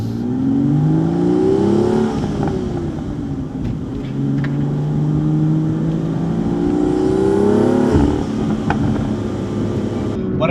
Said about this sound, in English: So let's go for a bit of a spirited drive.